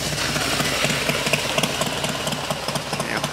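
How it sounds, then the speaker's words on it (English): A motorcycle engine idles nearby at a campground, a steady rumbling putter with regular knocking pulses, loud and continuous with no talk over it. "let me get out of the way of the motorcycle"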